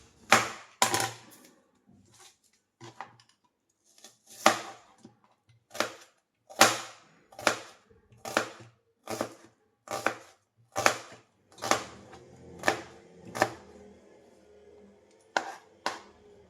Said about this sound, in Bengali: তো চলো পেঁয়াজটা কেটে নিই।